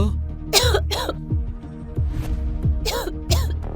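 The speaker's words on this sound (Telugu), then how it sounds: "ఆమె చలికి దగ్గుతుంది." A woman with a cold gives two pairs of harsh coughs, each burst quick and close together, with a low hum and faint murmuring in the background between them.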